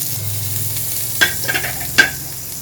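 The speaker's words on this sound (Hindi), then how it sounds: "सबसे पहले बटर ऐड करेंगे कढ़ाई में," Butter melting in a hot kadai for a butter chicken gravy gives a low steady sizzle, broken by a few sharp clinks and scrapes of a utensil against the pan.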